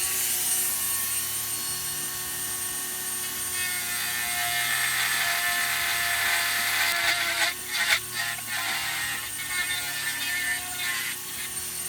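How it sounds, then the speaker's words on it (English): A router cuts a recess for a trim stopper into an Ibanez RG270 guitar body, giving a continuous loud whine with grinding, rattling texture and a few sharper bursts where the bit bites into the wood. "And then let's go ahead and route out a spot for our trim stopper."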